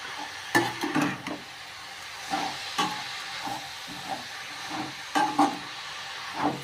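Mustard seeds, chana dal and urad dal frying in hot oil for a beetroot poriyal, giving a steady close sizzle with scattered sharp pops and crackles and a few stirring scrapes, no voices.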